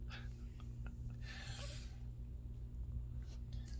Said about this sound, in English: She's got these little cute puppy snores.